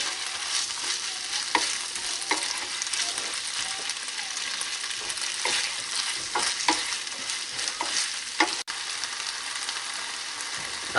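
Pork sizzles hard in a pan as it is stir-fried for a Chinese garlic-sauce dish, a continuous crackle with frequent clattering scrapes of the utensil and a sharp knock near the end.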